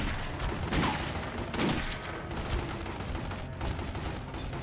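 Gunfire in The Godfather video game, rapid bursts of shots fired in quick succession at moderate loudness, with no clear speech during the shooting.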